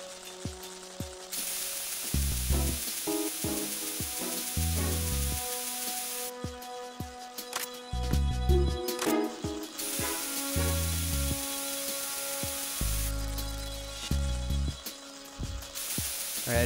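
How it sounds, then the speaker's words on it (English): Bug spray hissing in Metal Gear Solid 2, broad sizzling bursts from about 1 to 6 s, 8 to 10 s and 13 to 16 s, mixed with game music, clicks and mechanical sounds. Nobody speaks. "I don't think I have to spray all them that much, really, to get them to leave"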